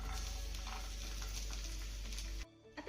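Finely chopped garlic and cumin seeds fry in a small amount of oil in a pan, a loud, dense sizzle that cuts off abruptly near the end.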